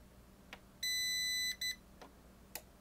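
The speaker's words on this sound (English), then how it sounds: "two beeps, and it's on." Two power-on beeps from a CyberPower CP1500PFCLCD UPS, a longer tone then a short one, near and crisp, with soft clicks from the button before and after.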